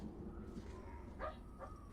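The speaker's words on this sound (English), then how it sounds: "Oh, that's my dog. Like dreaming." A sleeping dog whimpers and gives a couple of soft, muffled yips while dreaming, faint and brief over a steady background hum.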